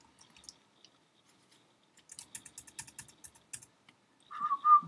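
Close, quiet keystrokes on a computer keyboard come in a fast cluster of soft clicks after a few scattered taps, followed by a short burst of unrelated higher-pitched sound at the end.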